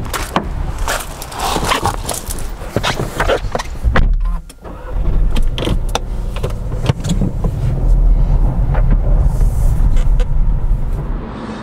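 A 2019 Audi A1's engine and road noise rumble steadily, with clicks and thumps early on, then a smoother continuous drone as the car cruises along an open road.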